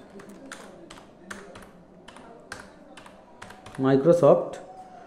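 A computer keyboard types out the word Microsoft in an Excel spreadsheet: quick, light, close keystrokes in an uneven patter, then a short burst of speech near the end.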